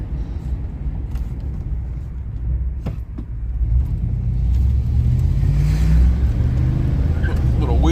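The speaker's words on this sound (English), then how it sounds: "Got a one wheel peel on this truck. No traction." A 1998 Chevrolet C1500 pickup with a misfiring engine accelerates hard from inside the cab, its engine rumble rising steadily as one rear wheel loses traction and spins.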